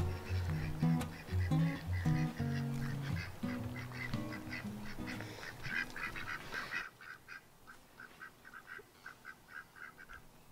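Pet ducks near a pond quack repeatedly in lively, irregular bursts, loud and close at first, then continue more faintly in quicker, lighter calls.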